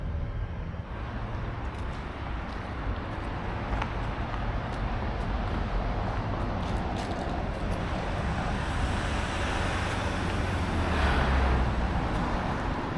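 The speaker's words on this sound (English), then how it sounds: "there's so much noise with traffic going by and trucks going by" Steady road traffic with passing cars and trucks beside a roadside car park near the Kalamunda start of the Bibbulmun Track, a continuous loud broadband rumble with a low swell near the end.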